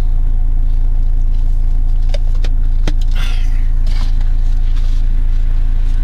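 A cold car engine idles steadily with a constant low drone, while faint clicks and a brief rattle of keys or buttons sound inside the cabin.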